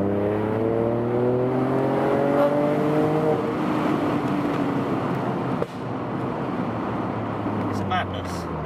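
A modified 200 hp stage 2 Ford Fiesta with a 1 litre engine revs on a downshift, its harmonic engine note rising then fading into road and cabin rumble, with a sharp clunk partway through.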